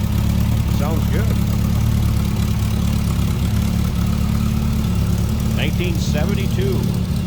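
A 1972 Volkswagen Beetle with a 1600 cc era-correct AE block engine idles steadily, a continuous low droning rumble close by, with faint chirpy sounds in the background.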